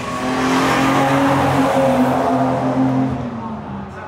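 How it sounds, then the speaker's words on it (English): A Porsche 991.2 GT3 RS with the Weissach pack runs on a race track, its engine holding a loud, steady sustained drone close by for about four seconds before easing slightly at the end. "This GT3 RS has been doing a lot of circuits of the track today."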